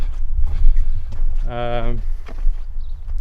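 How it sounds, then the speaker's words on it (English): Goats return into a barn with shuffling hooves and movement, and one loud bleat sounds near the middle amid rustling farmyard noise. "The goats have just come back in."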